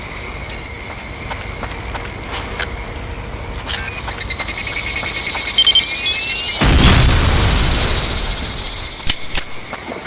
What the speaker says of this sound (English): Bomb this equipment, soldier.